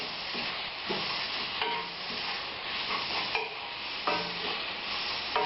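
Biryani mixture with garam masala stirred in a karai, a soft sizzle under repeated scraping strokes of a spoon against the pan, close and steady.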